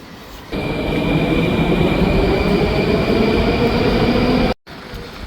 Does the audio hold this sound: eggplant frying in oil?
no